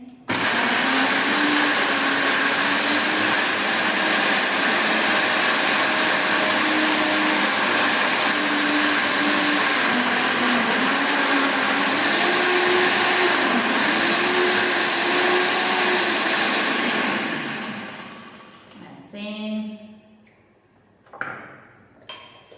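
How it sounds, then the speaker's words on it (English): A blender crushing ice for cocktails roars loudly and continuously for about eighteen seconds, its motor pitch wavering as it grinds, then cuts off, leaving a brief rattle and a few clinks. "you're going to hear a lot of noise, so I'm sorry, but it's the blender"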